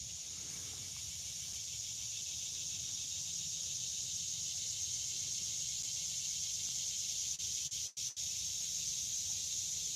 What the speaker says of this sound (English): The cicadas are all. Can you guys hear them?